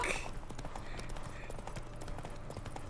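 Horse hooves clip-clop at a steady riding rhythm in The Witcher 3: Wild Hunt, a soft, fairly quiet run of repeated hoofbeats over ambient game sound.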